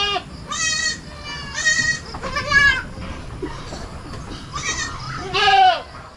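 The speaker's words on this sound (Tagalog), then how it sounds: "So sa ngayon, may 8 tayong kambing na nadagdag." Goats bleating on a farm, several harmonic calls in a row, some near and loud, others overlapping, with quieter background noise between bleats.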